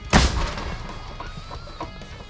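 An artillery gun of the 77th Brigade fires a single shot on the Borova front: one sharp, loud blast at the start, followed by a long rumbling decay with faint scattered thumps behind it.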